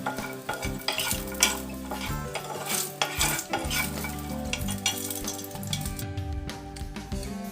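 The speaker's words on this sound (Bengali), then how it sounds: "এবার বড়িটাকে আমরা ভেজে নেব।" Loud crackling sizzle of small lentil dumplings (bori) frying in hot oil, with frequent spoon scrapes and clinks against the pan, close and busy throughout.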